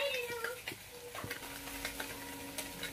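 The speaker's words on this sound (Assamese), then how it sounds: "এইদৰে হালধিখিনি পিঁয়াজৰ লগত অলপ ভাজি লৈ এতিয়া দি দিম মই পিচি থোৱা সৰিয়হখিনি" Turmeric and onion fry in a pan with a soft, steady sizzle as someone stirs, producing faint scraping and light taps of the spoon.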